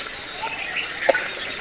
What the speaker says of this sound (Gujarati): હવે મરચાં નાખવાનું થઈ ગયું ચાલુ